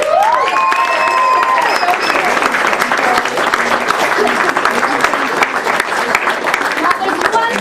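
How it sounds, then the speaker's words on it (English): A big audience at a children's school show of Oliver Twist gives the parents a loud, dense round of applause with some cheering and shouting, and a voice speaks briefly at the start. "I think we need a really loud round of applause"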